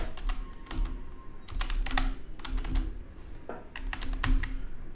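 Python code being typed on a computer keyboard, a steady close run of light key clicks with brief pauses between bursts, and no voices.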